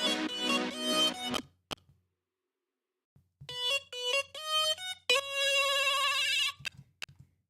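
A bright, plucky synth lead from an electronic beat with a high-pass filter, playing short staccato melodic phrases in bursts separated by gaps of silence, clean and upfront.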